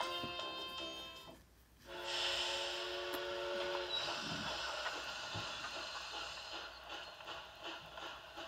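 A train whistle in the video game Yo-kai Watch 2 sounds as a sustained, steamy tone with hiss that enters suddenly after a brief quiet, holds steadily, then fades into rail noise.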